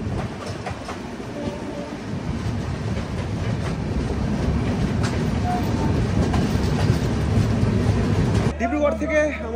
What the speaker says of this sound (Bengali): আমাদের ট্রেন এই মুহূর্তে এসে পৌঁছানো হচ্ছে বিহারের বারাউনি জংশন।